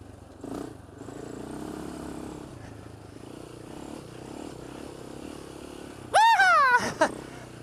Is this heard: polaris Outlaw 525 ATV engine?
yes